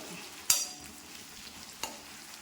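Ginger sizzling in sesame oil for a beetroot pickle, a soft steady fry underneath with two sharp stirring scrapes of a spoon against the pan.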